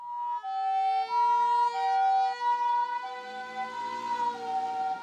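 An ambulance siren wails loudly and steadily in a two-tone alternating pattern, carrying an emergency rescue evacuation, with no voices.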